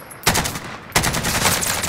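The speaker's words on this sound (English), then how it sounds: "Oh, that's terrible shooting by me." Video game gunfire comes in two sustained bursts of rapid, loud automatic shots, the first after a brief quiet start and the second running to the end.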